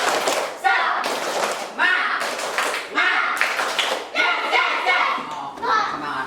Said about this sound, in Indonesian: kita tepuk semangat satu kali lagi sambil berdiri